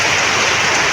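Cold rain pouring down, a loud, dense, unbroken hiss filling the whole moment, close and even.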